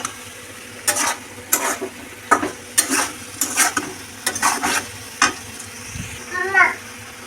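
Potatoes fry in a pan with poppy seeds, a soft sizzle under repeated scraping strokes of a spatula, followed by a brief clink near the end.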